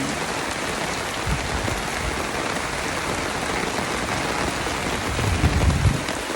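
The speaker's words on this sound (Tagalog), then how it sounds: "Kalangkan dito. Umuulan." Steady, heavy rain pouring down and pattering on a surface, a dense continuous hiss with no voices.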